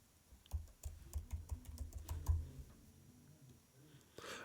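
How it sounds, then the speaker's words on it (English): Typing an address on a computer keyboard: a quick run of close, crisp key clicks for about two seconds, then a quieter pause and a final louder tap. "you can start typing in your address. So I'm going to do that now."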